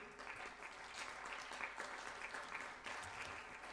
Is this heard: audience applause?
yes